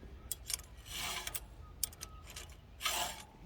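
A chainsaw chain is sharpened by hand with a file in a file guide, producing faint scraping strokes in irregular bursts, close and quiet, with no talking.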